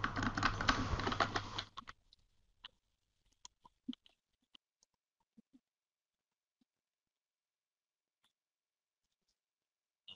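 Fingers tapping keywords on a computer keyboard, a dense burst of rapid keystrokes for about two seconds, then sparse isolated clicks scattered through near silence.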